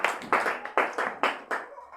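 A church congregation claps in unison during a service, about seven sharp rhythmic claps at a steady beat, close and clear with no talking.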